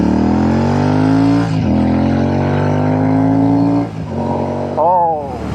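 Royal Enfield Shotgun 650 motorcycle fitted with AEW exhaust pipes, revving up and dropping back several times, loud and close, with a voice talking over part of it.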